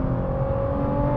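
Litchfield GT-R LM20, a tuned Nissan GT-R, in R mode with its engine pulling hard under acceleration, a loud, steady, rising drone heard from inside the car with no talk.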